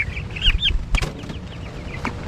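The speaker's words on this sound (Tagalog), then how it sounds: "Update ko po kayo dito sa ating mga alagang 45 days na manok." Chickens cluck and chatter nearby in short bursts, with a brief flutter of wings in the middle.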